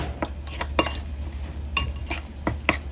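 Seasoned butter with garlic powder and chicken bouillon being mixed in a bowl: several sharp clinks and scrapes of a utensil against the bowl in an uneven rhythm, close and fairly quiet over a low steady hum.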